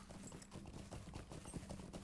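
Horse hooves clip-clop in a steady, busy rhythm as a mount trots along in the game Lord of the Rings Online, the hoofbeats close and fairly loud throughout.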